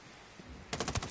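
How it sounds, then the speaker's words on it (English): Rapid machine gun fire in the Ghost Recon video game bursts in after a quiet start, a loud run of sharp evenly spaced shots lasting about half a second and heard alone. "Oh, I see their gunfire."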